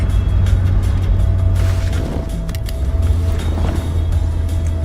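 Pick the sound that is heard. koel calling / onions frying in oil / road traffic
road traffic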